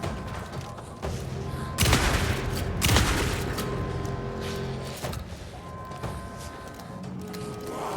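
Sustained gunfire from a mounted gun in the video game Alan Wake 2, a dense continuous burst with heavier booming thumps near the start, loud and close throughout.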